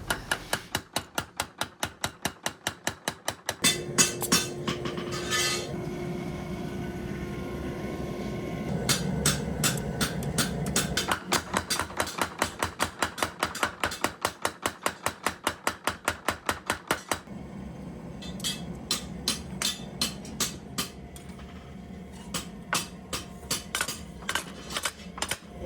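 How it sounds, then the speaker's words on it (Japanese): Rapid, rhythmic hammering of two stacked steel layers while forging a Japanese knife, with fast, ringing metallic strikes in long runs, short pauses, and a lower humming background in between. "それを保ちながら一気に叩いて伸ばして形に仕上げる"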